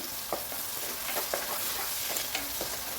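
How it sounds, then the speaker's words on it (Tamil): Onions sautéing in a pan for Chettinad chicken gravy, an even close sizzle broken by a few soft stirring clinks and scrapes, with no speech. "ஆனியன் வதங்கிட்டு இருக்கு நல்லா"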